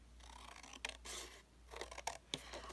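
Scissors snip off an excess piece of a craft kit with a few short, crisp cuts around the middle and end, quiet against a faint room hum.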